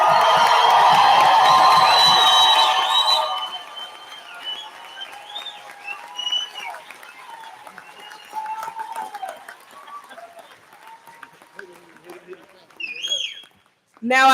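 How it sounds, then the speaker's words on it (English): Loud applause and cheering from a university fall commencement audience fill the first three seconds, then drop away to scattered shouts, whoops and room noise. "Let's give them one more round of applause."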